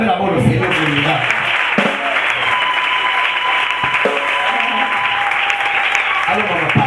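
A church congregation breaks into loud, sustained applause that fills the whole moment, with a voice speaking over the clapping at first.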